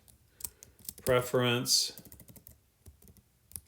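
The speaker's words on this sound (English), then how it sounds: "I'm going to start typing" Fingers type on a computer keyboard in Google Docs, producing scattered quick clicks before and after a single word spoken in the middle.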